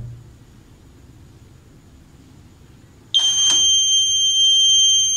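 A buzzer alarm on an AI weapon detection security system switches on abruptly after a quiet stretch, a loud, steady high-pitched electronic tone that holds continuously to the end.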